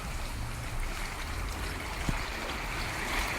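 Coastal sea atmosphere at the Phetra Islands national park in Satun: a steady wash of water and surf with a faint boat-like hum, even and moderately quiet throughout, with one brief knock.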